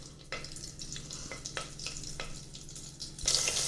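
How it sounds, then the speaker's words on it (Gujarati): Chillies shallow frying in hot oil in a pressure cooker crackle and sizzle with soft intermittent pops and stirring scrapes, quiet and close, rising to a louder sizzle at the end. "તેલ ગરમ થાય એટલે આપણે આ મરચાંને પહેલાં સેલો ફ્રાય કરી લેવાના છે"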